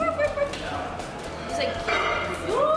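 A puppy barks a few times in quick, high yips, mixed with people talking nearby.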